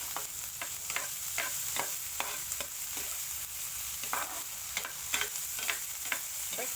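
A hotdog fries in dairy cream used as cooking fat, a continuous close sizzle broken by repeated scraping stirs of a utensil against the pan.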